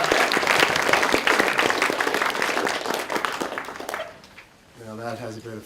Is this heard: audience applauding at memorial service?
yes